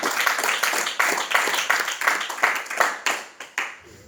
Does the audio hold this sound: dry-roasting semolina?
no